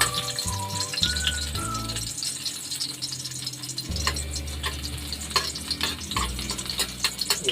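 Garlic frying in a pan for cuttlefish adobo, a steady crackling sizzle with stirring scrapes and light rattles of the utensil, close and continuous with a low hum beneath.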